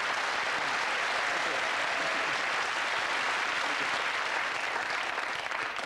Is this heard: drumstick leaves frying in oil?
no